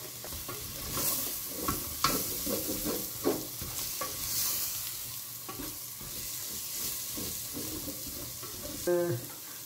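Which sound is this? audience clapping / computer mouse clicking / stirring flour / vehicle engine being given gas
stirring flour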